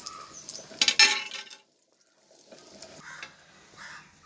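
Fish roasts in a new iron pan, with a burst of sizzling and stirring scrapes early, a brief quiet pause, then softer frying crackles resuming near the pan.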